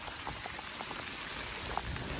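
Steady rain falls on a fort trek near Kalavantin Durg, a dense, even hiss of drops pattering on the ground and nearby surfaces, heard close and alone without any voices.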